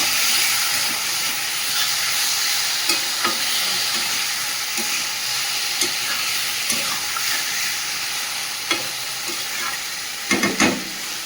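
Lote (Bombay duck) fish cooking in a pan with salt, turmeric and Kashmiri chilli gives a steady, loud sizzle with soft hissing throughout, broken by occasional light scrapes and a few clatters near the end.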